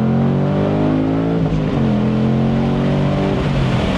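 A Ford Mustang Dark Horse with a six-speed manual pulls hard in second gear, its exhaust a loud, rising, rasping drone that climbs steadily in pitch, heard from inside the car with no talking.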